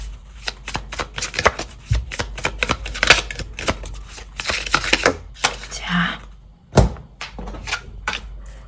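Tarot cards are shuffled and drawn by hand close up, making a quick series of papery flicks and snaps in bursts, with a few sharper slaps as cards are laid down.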